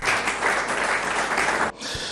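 An audience at a Congolese music and culture event applauds in a brief, dense burst of clapping that cuts off abruptly, leaving a quieter room tone.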